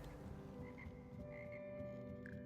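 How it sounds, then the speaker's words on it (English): Frogs croaking in the frog choir of Hogwarts Legacy, faint low croaks in a quiet indoor game scene, with a few soft higher chirps over a low hum. "I love the frog choir."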